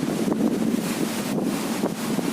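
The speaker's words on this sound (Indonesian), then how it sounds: "Anginnya besar bro" Strong wind buffets the microphone in a steady, loud, broadband rush during ultralight fishing near a small island, with no one speaking.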